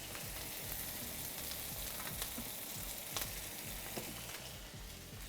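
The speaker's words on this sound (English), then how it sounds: "You want to hear those sizzles when you drop it in." A turkey leg, laid skin side down in a hot pan, sizzles and crackles steadily, with faint pops scattered throughout and no voices.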